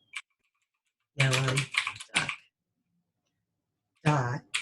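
A computer keyboard clicks faintly as a Python file name is typed, the quick keystrokes mostly under close, loud talking.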